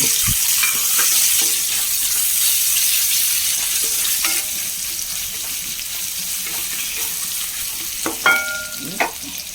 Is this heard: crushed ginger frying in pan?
yes